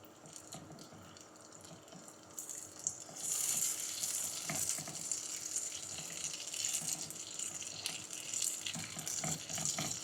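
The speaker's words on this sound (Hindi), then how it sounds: "कबाबों को फ्राई करते हुए 4 मिनट हो चुके हैं" Chicken kebabs fry on a flat tawa griddle, a soft steady sizzle that swells louder and brighter partway through and then holds, close by with no talking.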